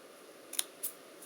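Scissors snipping a paper fringe heart for a Valentine's craft, three faint, crisp clicks of the blades spaced unevenly over a quiet background, close to the listener.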